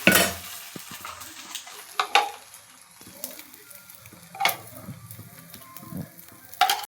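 Dosa cooking on a pan for dinner, a quiet sizzle under occasional clinks and scrapes of a spatula against the pan, no talk.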